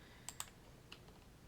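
A few quiet clicks of computer keyboard keys pressed for a Control C copy shortcut, two quick taps close together and a softer one after a pause, heard alone against a low hum.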